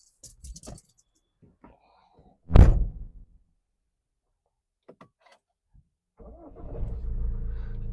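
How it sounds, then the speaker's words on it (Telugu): A 2019 Tata Harrier XZ diesel SUV is started with its self-starter: a few faint clicks, then a short loud burst mid-clip, and near the end a low, steady diesel rumble settles in close by. "కార్ ఒకటే సెల్ఫ్ లో స్టార్ట్ అయిపోయిందన్న,"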